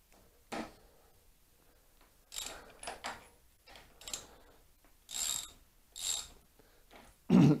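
A ratchet wrench loosening motorcycle fork top caps, a series of short separate clicking and rasping bursts with pauses between, close and fairly crisp, ending with a louder knock.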